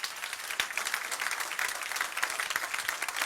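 Applause from an audience at a live talk event, a dense and steady patter of many hands clapping at moderate distance.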